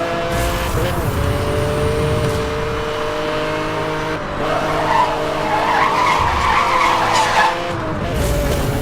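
Pagani Zonda cars racing in Need for Speed: Hot Pursuit, with continuous loud engine roar and screeching tire skids that swell and fade across the stretch.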